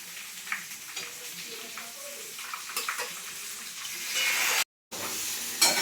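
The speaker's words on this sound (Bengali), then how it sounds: "আমি এখানে বেগুনগুলো ভাজছি" Eggplant pieces frying in a pan make a soft, continuous sizzle, with faint clinks and stirring scrapes, and a brief dropout near the end.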